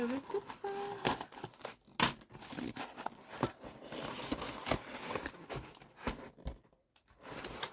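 A plastic package is cut open up close with sharp snips, crinkling rustles and a brief tearing sound, fairly quiet, with someone talking at times.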